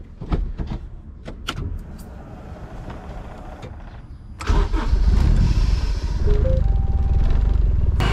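A Honda Civic with a K24 engine, idling quietly with some clicks and clunks before a loud start at close range, then a steady running rumble with a faint whine.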